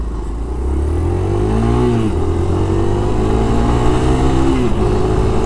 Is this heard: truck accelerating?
yes